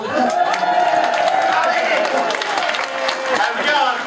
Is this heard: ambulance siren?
no